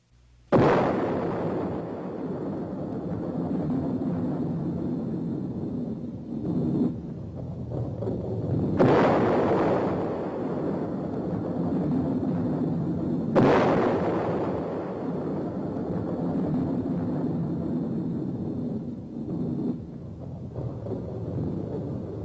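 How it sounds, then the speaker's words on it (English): Deep, rumbling blasts from an atomic bomb explosion, three heavy booms with sharp onsets spaced several seconds apart, each rolling into a long sustained roar that fills the whole stretch, loud and with no voices. "The world was deeply shocked by the first atomic explosion."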